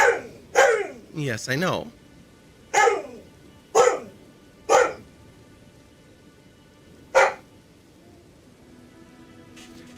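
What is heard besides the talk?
pet dog Nika barking at a dog outside the window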